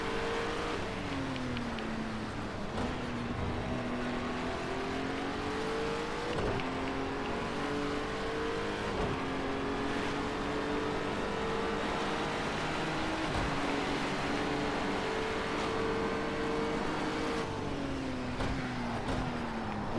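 A BMW Z4 engine in a racing video game drones steadily at high revs, the pitch climbing and dropping through repeated gear shifts as the car drives on, loud and continuous with no talk.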